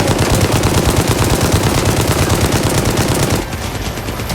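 Rapid automatic gunfire in the Gangstar Mirage City video game, loud sustained bursts of shots firing in a fast rhythm that ease off briefly near the end.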